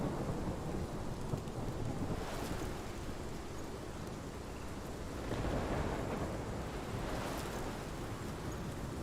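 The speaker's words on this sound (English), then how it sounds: "Tormenta sigue ahí." Thunderstorm in the video game Life is Strange: a steady roar of heavy rain and wind with low rolling thunder swelling twice, broad and enveloping, with no voices.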